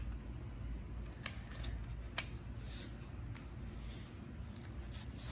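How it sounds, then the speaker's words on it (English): A sheet of green origami paper is folded edge to edge and creased, producing soft crinkles and a few sharp papery snaps close by over a low background hum, with no speech. "I'm going to fold this edge to this edge"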